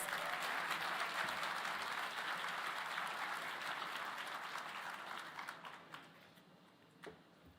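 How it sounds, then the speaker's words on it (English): An audience at a library grand opening ceremony applauds warmly for a speaker, a steady clatter that gradually thins into a few scattered claps before quieting. "Let's give her a warm round of applause."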